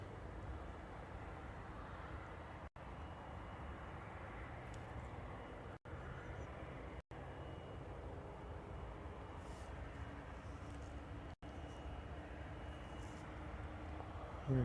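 Etihad airliner on its takeoff roll at Dublin Airport, a steady broad engine roar heard from a distance outdoors, holding level throughout with brief dropouts.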